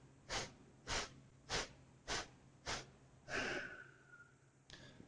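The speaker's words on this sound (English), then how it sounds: "So deep inhale in, filling up the whole body, and then incrementally exhaling quickly." A yoga breathing exercise, with five short forceful exhales through the nose at a steady pulse, followed by a longer, deeper breath and a final puff, close and quiet.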